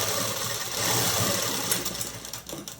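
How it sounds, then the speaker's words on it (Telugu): A sewing machine runs steadily while stitching a straight line on a blouse. It whirs continuously and close up for the whole stretch, with a slight rattle toward the end. "హ్యాండ్స్ అనేది కుట్టేసి స్ట్రైట్ లైన్ వేసుకున్నాము"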